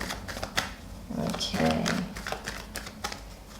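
Tarot cards are riffled and shuffled by hand in quick, dense bursts of papery flicking and snapping at close range, with someone speaking briefly.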